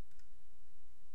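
A single computer mouse click, a quick faint tick near the start over a quiet room background.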